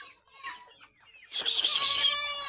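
Hens and their chicks cluck and peep in a busy, continuous chorus close by inside a farm enclosure, following a few seconds of quiet talk.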